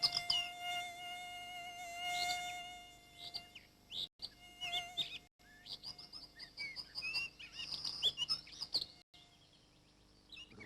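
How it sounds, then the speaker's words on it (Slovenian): A high, thin whine of buzzing mosquitoes hovers close over a backdrop of bird chirps and other insects, rising and falling as they drift near and away. "Če ga ne bi motili brenčeči komarji"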